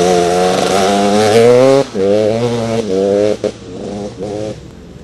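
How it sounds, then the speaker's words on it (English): A quad bike racing flat out in Kenyan cross country, its engine screaming at high revs close by, dipping briefly and surging again as the throttle shifts, loud and alone. "Pushing his quad as hard as possible, Arafat Vaini was quite literally flying"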